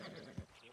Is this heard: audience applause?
no